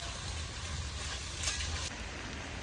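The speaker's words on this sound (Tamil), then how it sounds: "பாரு வரமிளகாவும் நல்லா வதங்கிருச்சு." Dried red chillies fry and sizzle in a pan with a soft, steady hiss, and a brief stirring scrape comes midway through, faint and close.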